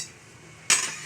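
A metal pot lid set onto a cooking pot of Ilokano vegetable dish, one short clink that rings briefly over a quiet kitchen background.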